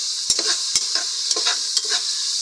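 Tomatoes and garlic fry in a pan for pork sinigang, a steady close sizzle with a few sharp stirring clicks and scrapes spaced through it, no voices.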